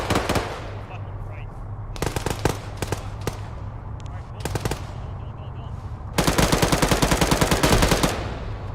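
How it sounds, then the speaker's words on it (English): Heavy automatic gunfire in the military video game ArmA 3, short rapid bursts followed by a long loud sustained volley, with shouted voices and a steady low drone underneath. "We're getting shot at by a big gun out to our west!"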